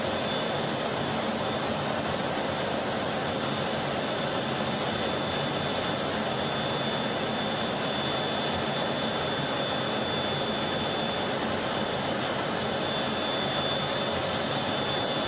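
Steady, loud jet engine roar heard from inside a Thunderbirds fighter cockpit during a reflection pass maneuver, a constant dense rush with no voices.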